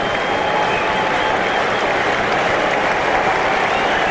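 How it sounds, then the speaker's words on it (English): A baseball stadium crowd roars and applauds steadily during a tense two-strike count at a 1999 Cardinals–Diamondbacks game, a loud, unbroken wash of cheering hoping for a strikeout. "Crowd wants a strikeout."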